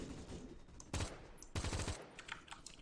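An M4A1 rifle in a video game fires in semi-auto mode: two distinct loud shots about half a second apart, each with a short rattling echo, over steady background game noise.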